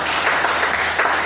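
A church congregation clapping for Jesus, a loud, steady wash of many hands applauding together at close range, without any voices.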